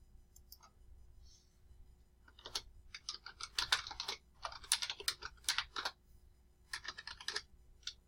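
Quiet bursts of typing on a computer keyboard, with rapid clicking keystrokes in uneven clusters separated by short pauses, close and alone against a low background hum.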